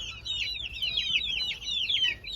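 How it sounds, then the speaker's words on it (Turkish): Rapid, high-pitched peeping and cheeping from about 24 baby chicks in a large cage, steady and chattering, fairly close with a faint low hum underneath. "24 tane civcivimiz var"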